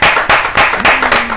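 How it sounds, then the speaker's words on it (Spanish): Studio audience applause at a television talk show, a dense broadband burst of clapping that rises and falls in three or four waves, loud and close throughout. "quiero pedir un fuerte aplauso para ella."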